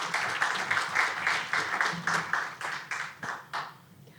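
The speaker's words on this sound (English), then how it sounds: "So again, I want a round of applause." An audience at a positive aging talk claps in a short burst of rhythmic, fairly quiet applause from a small group, the individual claps pulsing steadily before tapering off near the end.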